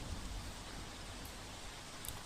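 Unseasonal rain falls in Surat, a soft, even hiss that is faint and continuous throughout, with no voices.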